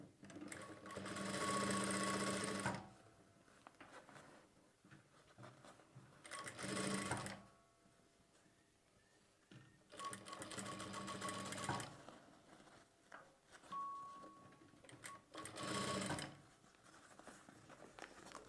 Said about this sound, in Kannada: ಸ್ವಲ್ಪ ನಿಧಾನವಾಗಿ ಸ್ಟಿಚ್ ಮಾಡಬೇಕು.